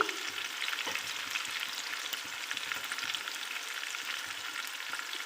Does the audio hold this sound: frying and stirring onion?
yes